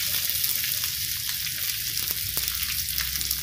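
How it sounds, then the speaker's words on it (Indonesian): Shallots and garlic sizzle steadily in a hot pan of oil while being stirred, a constant close crackling hiss with occasional scrape ticks of the spatula, no voices. "Kemudian kita aduk ya, rata dengan bawang merah dan bawang putih yang sudah kita goreng hingga harum tadi."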